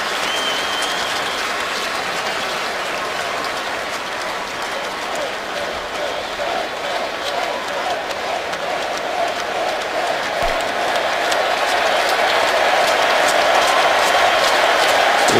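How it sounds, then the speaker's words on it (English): Stadium crowd at an NFL game, Jets at Titans, applauding steadily as injured quarterback Jake Locker is carted off the field; dense, sustained clapping and crowd roar that swells slightly toward the end. "members of the Jet defense joining in the applause for Jake Locker as he is loaded onto the cart"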